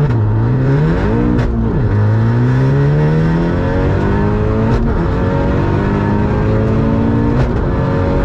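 A tuned VW Golf R MK7 launching and pulling hard, its engine note climbing loud and unbroken with quick breaks in pitch at each gear change before rising again, heard from inside the car with no talking.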